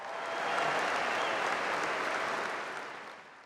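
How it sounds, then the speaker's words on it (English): A crowd applauds steadily for a few seconds, a dense even patter of clapping that swells quickly and fades out at the end. "Please give them a round of applause."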